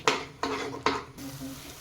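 Banana halwa is stirred in a pan, with three sharp utensil scrapes at a steady pace, then a quieter bubbling sizzle.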